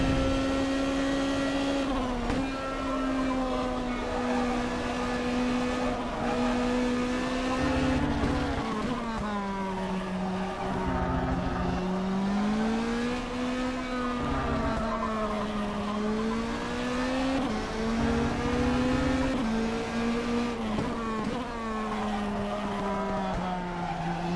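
Formula 3 race car in Stock Car Extreme at Interlagos, its engine droning steadily with rising and falling pitch through gear changes, loud and continuous, with occasional tire squeal.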